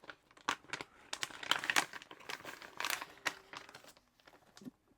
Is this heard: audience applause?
no